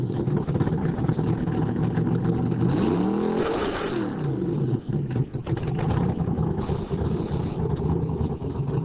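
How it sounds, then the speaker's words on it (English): A modified Pontiac Fiero at a Fierorama car show idles loudly up close, then revs with a rising and falling engine sweep before settling back to a rough, noisy idle. "Okay, we're going to ask him to start the car up here."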